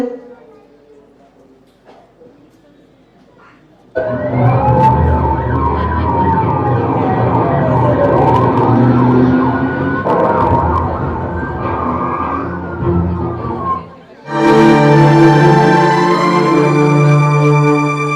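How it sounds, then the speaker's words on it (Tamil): A police car siren outside wails, sweeping up and down loudly for several seconds, then gives way to a different sustained tone near the end. "வெளியே போலீஸ் வண்டி சத்தம் கேட்கிறது."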